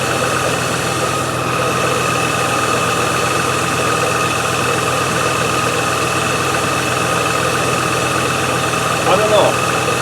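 Range Rover engine with a fuel problem running steadily at a slightly high idle, a constant close hum and vibration lasting throughout with no break.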